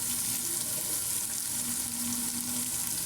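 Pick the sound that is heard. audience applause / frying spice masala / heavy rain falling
frying spice masala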